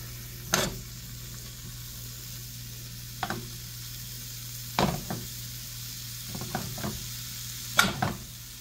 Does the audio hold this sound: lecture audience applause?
no